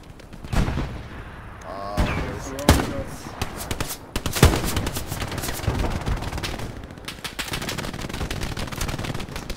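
Machine gun bursts and scattered gunshots ring out in the war video game Hell Let Loose, loud and sharp at times, with voices talking over the firing.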